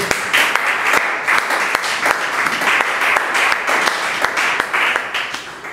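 A church congregation breaks into loud, sustained applause, many hands clapping together in a dense, continuous patter with a few sharper claps standing out, close and full throughout.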